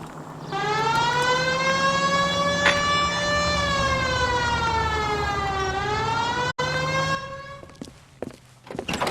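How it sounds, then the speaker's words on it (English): A police car siren in the L.A. Noire video game wails loudly and continuously, rising and falling in a slow sweep, before cutting off near the end. "Hit the siren."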